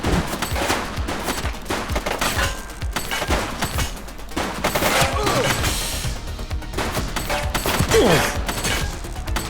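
Rapid bursts of gunfire in The Precinct, a police action video game, crackle and rattle in dense volleys across the whole stretch, with game sound effects and shouting underneath.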